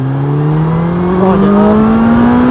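A Suzuki GSX-S1000GT motorcycle accelerates in fifth gear, its engine tone climbing steadily and loudly up close as it pulls, with no talking.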